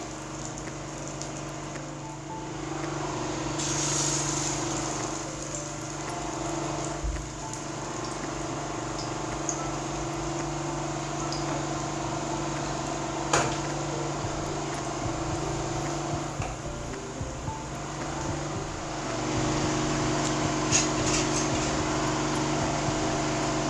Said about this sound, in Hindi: इसे हम शैडो फ्राई करेंगे, फुल फ्राई नहीं करेंगे।